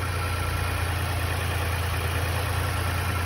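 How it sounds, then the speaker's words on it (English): An auction vehicle started with a fob key idles steadily, a continuous low engine hum with a constant drone and no change in pitch, close and with no voices. "Very quiet on the engine on this one."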